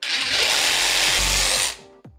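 A DeWalt power tool runs loud and close at a steady high whine for under two seconds, then winds down with a falling pitch and a brief last spin-up.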